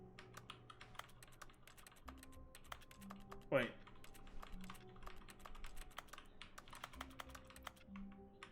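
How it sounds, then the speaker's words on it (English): Faint computer keyboard typing inside The Stanley Parable, scattered quick key clicks running steadily in the background under quiet game ambience, with a brief spoken word and one louder knock. "How come it sounds like I'm hitting keys when I'm not near the computer?"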